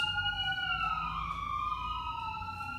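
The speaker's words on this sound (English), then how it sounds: "That's an ambulance." A wailing siren sweeps up and down steadily throughout, fairly loud over a low background rumble, like an ambulance passing nearby.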